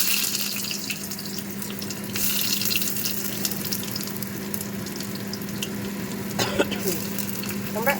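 Onions frying in hot oil for beresta, a steady close sizzle mixed with running water from a tap in a home kitchen, with a brief clatter near the end.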